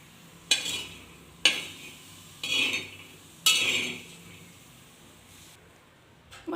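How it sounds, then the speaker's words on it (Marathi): Salted peanut pods dry-roast in a pan, with four or five sharp scraping stirs spaced about a second apart, each a crisp rattle that fades quickly into a quiet background. "आता या शेंगा आपण छान खरपूस भाजून घेऊयात।"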